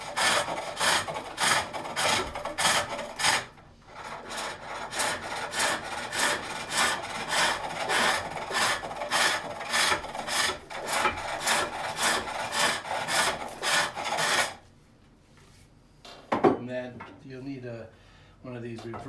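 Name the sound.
reverse grind hook tool cutting wood on a pole lathe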